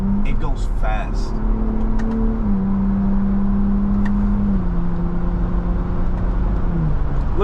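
A 2024 Ford Bronco Raptor, big and heavy, driving fast, heard from inside: a steady engine drone whose pitch holds and steps slightly through gear changes, with people talking over it throughout.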